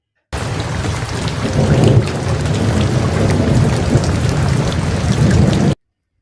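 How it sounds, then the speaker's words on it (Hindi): Heavy rain pours down steadily with rumbling thunder in an animated story, a loud, dense wash of rainfall that stays continuous from start to finish and then cuts off abruptly. "अरे बारिश तो बहुत तेज हो गई।"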